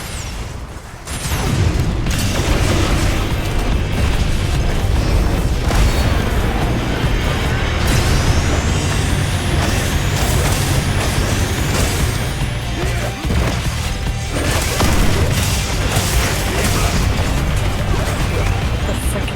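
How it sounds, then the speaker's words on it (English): Mortar shell blasts in a co-op shooter video game, a loud dense run of booming explosions and crashing debris that fills the whole stretch, with faint voices buried underneath. "Mortar."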